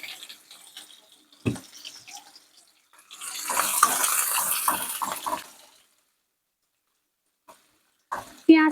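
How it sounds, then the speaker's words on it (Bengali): Onions dropped into hot oil for Bengali chicken kosha, giving a hissing, crackling frying burst of a few seconds between quieter handling noises. "তেল গরম হয়ে গেছে, এবার আমি পেঁয়াজ দিয়ে দিচ্ছি।"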